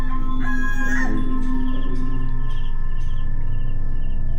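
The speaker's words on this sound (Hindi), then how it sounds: "मुर्गा" A rooster crows once near the start, a drawn-out call heard at a distance over a steady low rumble and hum, with no one speaking.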